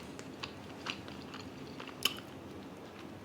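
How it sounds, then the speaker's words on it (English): Someone chews mochi rice cake during a Korean meal, with soft, close, moist chewing and a few sharper bites and smacks spread over a few seconds, and no speech. "The mochi is so fun to eat."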